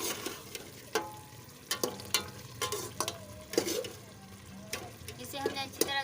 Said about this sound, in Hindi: इसे हमने अच्छी तरह से भूना है ताकि हमारा जो घी है वो कच्चा ना रह जाए।